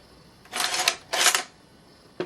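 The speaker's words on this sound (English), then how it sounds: "my favorite feature about this gun is the mock bolt. Actually, the bolt functions" The mock bolt of a CYMA Socom 16 CM032A airsoft rifle is cycled twice, each a close, sharp metallic rasp of about half a second, followed by a short final click.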